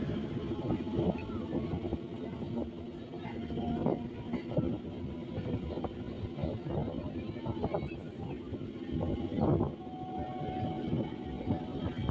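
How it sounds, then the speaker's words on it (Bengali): A Kolkata circular railway train rolls slowly along the Ganges bank, giving a steady, close rumble with scattered knocks and rattles throughout. "ট্রেন এখন ধীরে ধীরে এগিয়ে চলেছে"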